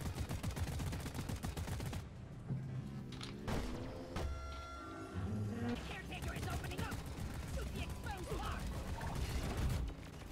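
Rapid bursts of weapon fire ring out in a Deep Rock Galactic boss fight against the Caretaker, aimed at its opened eye, loud and repeated amid mechanical clanks, with players talking over the action.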